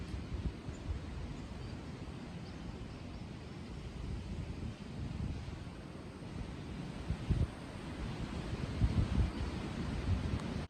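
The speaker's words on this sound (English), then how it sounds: "Ooh, the wind." Steady wind blows outdoors in a snowy garden, a continuous low rumbling buffet across the microphone with gusts swelling louder toward the end; no talking.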